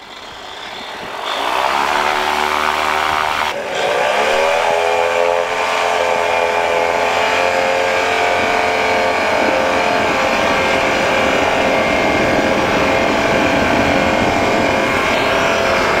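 A PeaBee light aircraft comes in to land, its propeller engine droning loudly and steadily after a brief dip in pitch, sustained close by with no talk.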